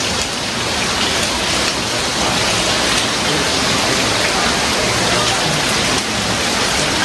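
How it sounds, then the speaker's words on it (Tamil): Heavy rain in Tamil Nadu pours down steadily for several seconds, a dense, loud, unbroken hiss of drops drumming on surfaces, with no voices over it. "பார்த்தீங்களா எப்படி பெய்யுது மழைன்னு"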